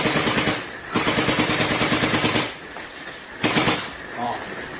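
Lancer Tactical airsoft Thompson M1A1 submachine gun firing full auto, two long rapid rattling bursts, close and loud, separated by short pauses with faint handling noise between them.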